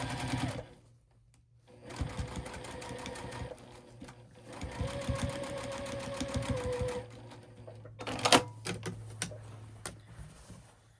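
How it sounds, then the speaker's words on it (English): A sewing machine runs in several bursts as it stitches a seam on a scrap postage stamp quilt, its rapid mechanical whirring starting and stopping, with a few sharp clicks and handling noises near the end. "I'm going to sew this seam back up right on the seam line."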